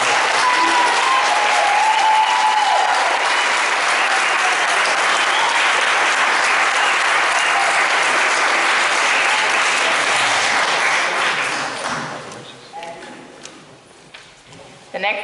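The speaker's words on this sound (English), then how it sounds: "So a round of applause, please." At a city council meeting in Petersburg, the audience breaks into loud, sustained applause that carries on for about eleven seconds before dying away to scattered claps and quiet room noise.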